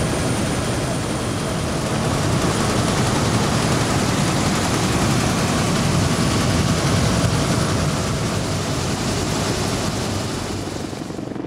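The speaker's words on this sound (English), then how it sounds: "it was my first helicopter ride" A steady, loud roar of a helicopter in flight fills the whole stretch, a dense continuous rumble with no pauses.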